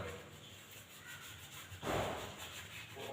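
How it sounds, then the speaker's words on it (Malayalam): A scrubber is rubbed hard over a tarnished brass lamp, producing a faint, continuous scratchy abrasion that swells briefly into a louder stroke midway. "ഒരു സ്ക്രബ്ബർ എടുത്തതിന് ശേഷം ഒന്ന് നല്ല രീതിയിലൊന്ന് ഉരച്ചു കൊടുക്കുക"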